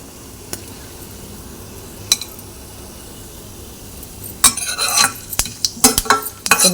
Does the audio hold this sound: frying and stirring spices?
yes